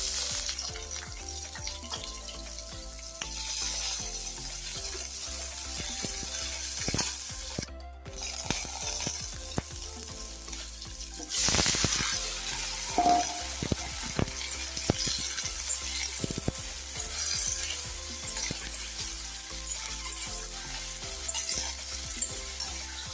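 Tomato, potato, onion and ginger-garlic paste fry together in a pan, a dense continuous sizzle with frequent stirring scrapes and clicks, close and steady, with a brief louder hiss partway through.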